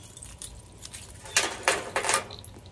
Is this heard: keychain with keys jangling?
yes